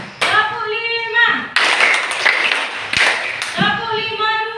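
A group claps out a short rhythmic pattern during an Indonesian classroom session, quick sharp claps in bursts between spoken counting, close and fairly loud, with voices talking around them.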